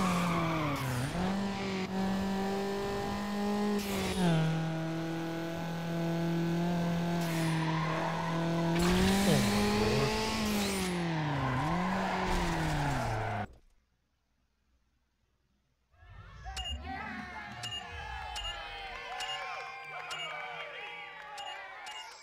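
Dodge Neon racing in Need for Speed Underground, a sustained buzzing engine drone with shifting pitch and gear changes, briefly cutting to silence before resuming with tire and engine noise; no talk.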